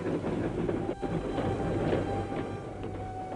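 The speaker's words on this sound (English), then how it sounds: "as the troop trains rumbled across France to the decisive point" Troop trains rumbling across France during the Great War, a steady loud rolling rumble with rhythmic wheel clatter on the rails, continuous with no voices.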